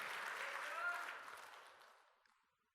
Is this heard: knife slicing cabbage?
no